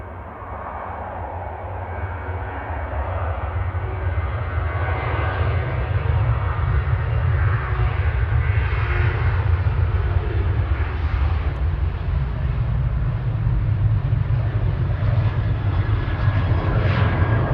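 Boeing 737-800 jet airliner at Manchester Airport, its engines producing a continuous deep roar that swells slightly and holds steady for the whole stretch, heard at a distance with no voices.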